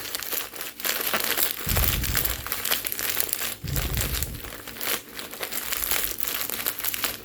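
A plastic bag of frozen Santa Fe vegetable blend with corn, onion and black beans crinkles and rustles steadily up close, with a few heavier crunches as the bag is handled.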